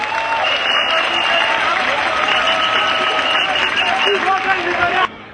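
A large crowd at a religious rally in Ivory Coast applauds and cheers, a dense, loud, steady wash of clapping and voices that stops abruptly after about five seconds.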